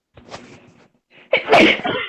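One person sneezes close to the microphone: a short intake of breath, a pause, then a loud, sharp burst that trails off.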